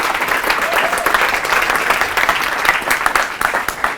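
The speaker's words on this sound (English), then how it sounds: "If we could just give him a round of applause" An audience at SOAS in London applauds to welcome William Lane Craig, dense, loud, sustained clapping from a full room that holds steady with a faint voice underneath.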